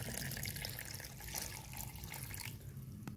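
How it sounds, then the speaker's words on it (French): Water pours steadily into sugar in a pot for making syrup, a continuous splashing rush over the whole stretch. "Maintenant, on rajoute de l'eau."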